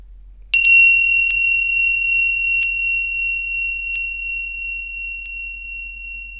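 A single meditation chime struck once, a bright clear ring that sustains and slowly fades over several seconds in an otherwise quiet room.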